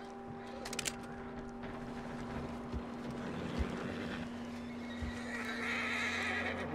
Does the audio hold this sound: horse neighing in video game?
yes